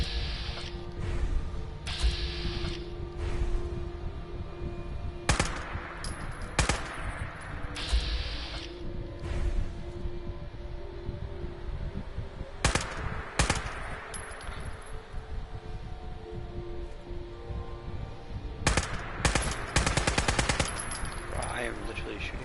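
Gunfire in Fallout 4 comes as repeated loud sharp bursts and metallic clangs scattered through about twenty seconds over a constant busy game background, with some talking in the mix.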